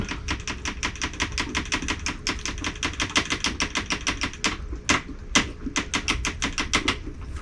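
Hikari shrimp pellets tapped down a feeding tube against the side of an aquarium, a fast, steady run of sharp clicking taps close to the mic, with a few louder knocks near the end.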